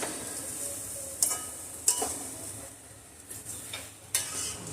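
Grated coconut and sugar roast in a pan under a soft, steady sizzle, punctuated by several sharp scraping clicks of a spoon stirring against the pan.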